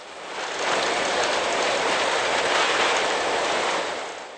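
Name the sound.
train with log wagons on a railway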